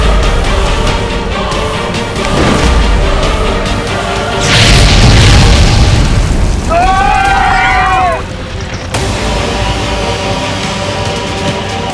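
A loud, booming blast bursts from a burning train, with a long roaring swell of noise; a high wavering cry briefly cuts through, and a continuous dense rumble fills the rest.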